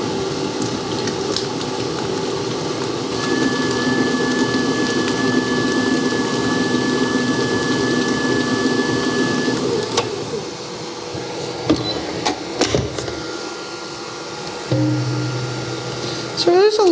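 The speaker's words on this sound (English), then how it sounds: "So there's a little bit of scraping." A Zacme 8.4-quart stand mixer beats four eggs, giving a steady close motor whir with the paddle scraping the bowl, then the tone shifts and stutters near the end.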